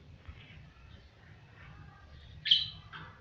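Birds chirp faintly in the distance over a quiet low background hum, with one brighter, louder call near the end and no speech.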